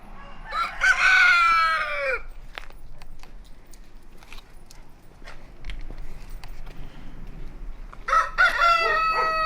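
A rooster crows loudly nearby twice, at the start and again near the end, with softer clucks and scratching noises in between under a low steady hum.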